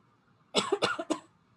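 Three quick coughs in a row, close and muffled, against a faint background hum.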